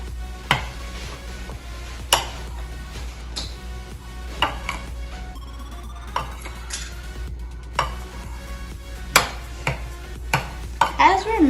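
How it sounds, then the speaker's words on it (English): A spoon stirs melted chocolate in a bowl, producing soft scraping and occasional sharp clinks of utensil against the bowl, repeating irregularly over a low steady hum. "let's give it just a little bit of a mix"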